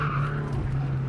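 Steady, sustained tire squeal from a car drifting on a race track during a track day on old tires, with engine drone underneath and no talking.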